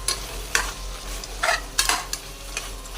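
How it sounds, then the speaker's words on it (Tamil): Mutton bones sautéing in a pan, a soft close sizzle broken by several sharp scraping strokes of a spoon stirring at irregular intervals, no voices. "எலும்பு கொஞ்சம் நல்லா வதங்கிடுச்சு."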